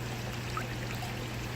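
Water trickles and pours steadily into a small aquaponics tank and spills out through an overflow pipe, a faint continuous stream over a low pump hum.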